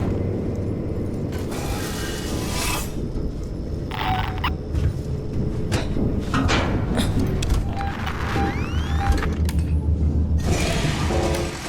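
Ambience of an abandoned space station in the video game Alien Isolation: air vents rattle and clank in uneven mechanical bursts over a constant low rumble of distant reactors, with occasional creaks and squeaks.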